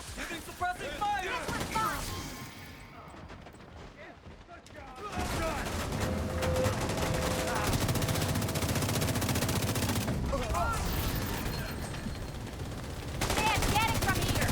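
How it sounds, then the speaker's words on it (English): A video game turret lays down suppressing fire, rapid sustained bursts of gunfire that fill most of the stretch, with a quieter gap early on and a voice talking over the start. "Point turret. Giving suppressing fire."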